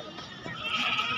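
Goat bleats at a crowded goat market, a short nasal cry rising out of faint background hubbub.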